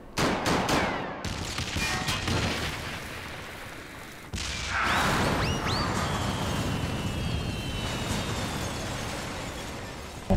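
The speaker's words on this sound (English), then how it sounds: "Why are you shooting us?" In Final Fantasy XIV, rapid gunfire crackles in dense bursts with booming impacts and a few rising whistles, a continuous busy barrage at moderate loudness with no talking.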